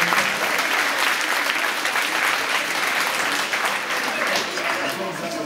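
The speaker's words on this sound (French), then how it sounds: "Donc on peut aussi l'applaudir bien fort." Sustained, dense applause from a crowd at a judo club's end-of-season general assembly, steady and loud throughout with no pauses.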